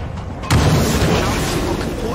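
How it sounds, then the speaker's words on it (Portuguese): Bloated zombie exploding in State of Decay 2 on Xbox Series S, a single loud deep boom that hits sharply and rolls into a sustained rumble for about two seconds, close and heavy. "Já vai dar a explosão do inchado"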